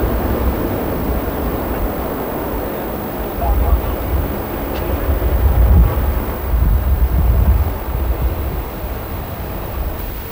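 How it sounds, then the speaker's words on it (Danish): A Hercules transport aircraft lands at Værløse air station and brakes hard with its engines, a loud, broad roar that swells and surges through the whole stretch, with a voice speaking over it. "Så lander flyet"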